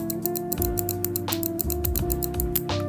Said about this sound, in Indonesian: Dan untuk dari segi suara kliknya adalah seperti ini.